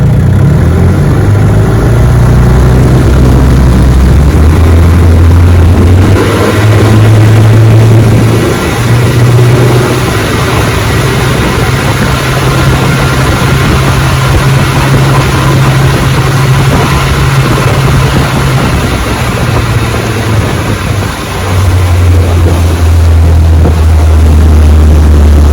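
A 1958 Johnson 18 HP FD-12 outboard motor runs on a lake boat, a loud, steady droning hum that rises in pitch as the throttle opens, then drops back near the end.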